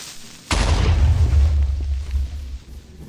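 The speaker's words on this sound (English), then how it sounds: "It'll explode." Minecraft creeper blowing up after being lit with flint and steel in the video game: a sudden loud boom with a deep rumbling tail that fades over a few seconds.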